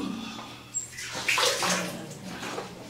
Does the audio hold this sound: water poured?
yes